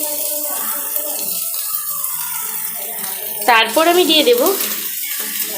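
Food for egg chicken noodles fries in a pan, a steady soft sizzle running throughout, with a voice speaking briefly over it partway through.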